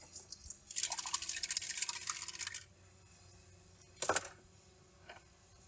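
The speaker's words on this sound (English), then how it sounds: "The bowl looks clean, so I'm just sloshing it around a bit" Diesel fuel sloshes in the filter bowl of a 2022 John Deere 2025R compact tractor, a close burst of swishing liquid for about two seconds, followed by a sharp clink and a softer tap.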